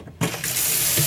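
Hot water from a faucet in a 2023 Cougar 2100RK travel trailer, starting abruptly after a brief quiet moment and then running as a loud, steady hiss and splash close by.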